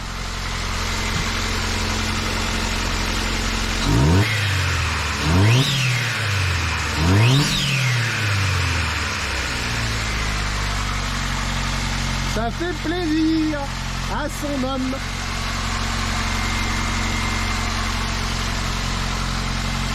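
A turbocharged K-Jet fuel-injected car engine idles with a low rumble, then revs up sharply three times in quick succession, followed by a voice speaking briefly in French over the steady idle.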